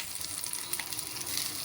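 Curry leaves and onion pieces fry in hot oil for Rayalaseema-style uggani, giving a steady, close, dense sizzle with faint stirring and no voices.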